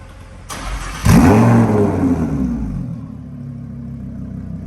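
A straight-piped Lamborghini Huracan starts with a sharp bark and a loud rising rev, then its engine settles into a deep, rumbling idle up close.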